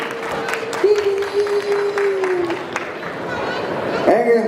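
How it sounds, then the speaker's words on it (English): Applause from a conference audience welcoming a panelist, clapping mixed with crowd chatter while a voice speaks over it, moderately loud and brief. "Round of applause."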